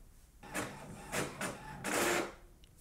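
An HP OfficeJet Pro 8135e inkjet printer prints a page in quiet bursts of whirring, three rising and falling mechanical passes with a longer final feed.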